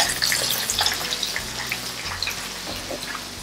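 Drumstick pieces sautéing in a pan for sambar, giving a steady soft sizzle and crackle with faint stirring, close and continuous, with no talking.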